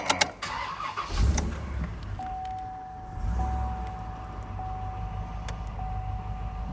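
A 2003 GMC Sierra 2500 with the 8.1-liter Vortec V8 cranks briefly and catches, then settles into a deep, steady idle close by while a warning chime repeats softly in the cab.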